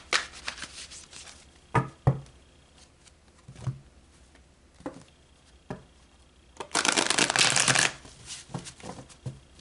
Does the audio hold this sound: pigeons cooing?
no